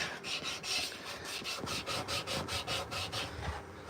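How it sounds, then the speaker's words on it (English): Steady rhythmic rubbing of sandpaper on a wooden spoon, quick back-and-forth strokes close by, repeating evenly for several seconds without talk. "it's sanding down nice and smooth."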